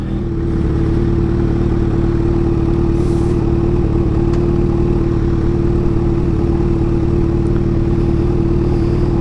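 A Kawasaki Ninja H2 motorcycle idles loud and close, its steady engine rumble running unbroken throughout with faint mechanical clatter as the rider works the gears to find neutral.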